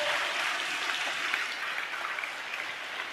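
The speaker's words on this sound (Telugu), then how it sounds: "2, 3 చప్పట్లు కొడుతూ దేవునికి స్తోత్రాలు చెప్దాం" A church congregation claps together during a service, a dense, steady wash of hand claps sustained at moderate volume without pause.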